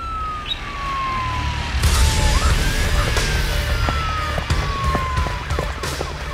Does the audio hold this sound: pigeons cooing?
no